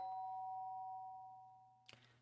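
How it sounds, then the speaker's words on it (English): Doorbell chime in the video game Danganronpa, a sustained electronic tone that slowly fades, followed by a brief sharp ding near the end, clear and alone. "did I hear the doorbell?"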